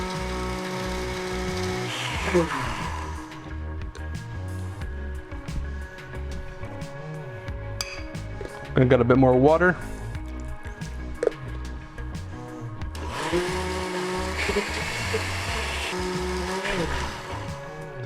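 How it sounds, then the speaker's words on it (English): A blender blending basil pesto whirs in bursts amid kitchen clatter, with a short, louder surge midway; a person speaks briefly over the machine noise. "we're gonna go ahead and blend our pesto now."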